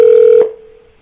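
A Skype for Business cloud PBX call being routed to voicemail: a loud, steady electronic telephone tone holds for under half a second, then cuts off and trails away into a faint fading hum.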